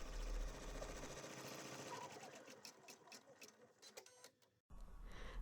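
An embroidery machine sews a placement stitch for the tooth pocket on a tooth pillow in the hoop, a fast, steady mechanical rattling that stops abruptly near the end and then resumes.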